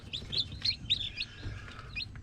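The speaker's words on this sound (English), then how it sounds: "all 6 baby chicks right now are out feeding" Baby chicks from a natural hen hatch chirping while out feeding, a few faint high peeps scattered over a low background rumble.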